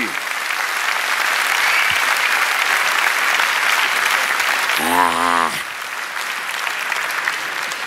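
A theater audience claps for a comedy solo show, dense steady applause that fills the clip, broken by a short shout and a brief laugh-like voice partway through before the clapping carries on.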